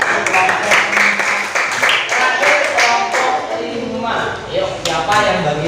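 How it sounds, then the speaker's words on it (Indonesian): Classroom applause for a presenting student, a steady wash of many hands clapping throughout, with voices mixed in underneath. "berikan tepuk tangan untuk Pak"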